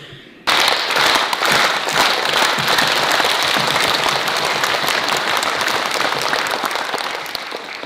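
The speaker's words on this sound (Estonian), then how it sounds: "tore aplaus meie näitetrupile" Loud, dense audience applause for a music theatre troupe at an Estonian theatre day in Paide, bursting in suddenly and sustained as a close, crackling wash of many hands that tapers slightly at the end.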